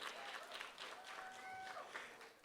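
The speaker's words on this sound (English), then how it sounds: "Give Brother Morris a round of applause for putting together this program." Audience clapping at a Kwanzaa celebration program in a research library, a soft, steady round of applause heard at a distance with faint tonal hum underneath.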